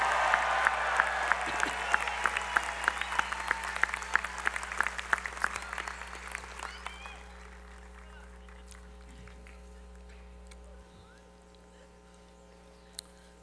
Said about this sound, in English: Give it up for these platform parties